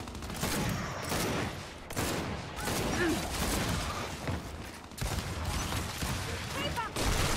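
Gunfire in the Gears 5 video game crackles in dense, sustained bursts with brief pauses, fairly loud and continuous across the whole stretch, with faint voices now and then underneath.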